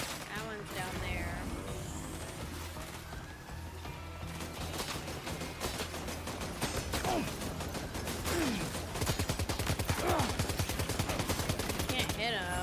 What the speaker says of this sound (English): These guns are kind of hard to aim with too